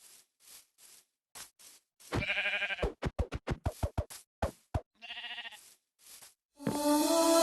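Sheep in the video game Minecraft: two nasal, wavering bleats, with a quick run of sharp thumping punches between them, faint light clicks around them and a brighter tone at the end.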